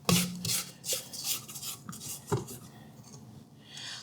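Spatula scraping spritz cookie dough around a stand mixer bowl, a few soft rhythmic rasping strokes close up, fading toward the end.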